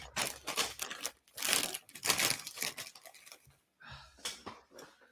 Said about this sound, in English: I'm gonna eat some onion ring crisps because I'm hungry. And I'm gonna make a lot of rustling noise on the microphone.